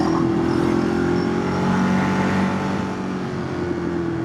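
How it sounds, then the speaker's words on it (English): A Ducati Streetfighter motorcycle engine burbles and rumbles steadily through its exhaust, fairly close, with a low throbbing tone and no talking. "Nice burble from the pipes as well, loving that."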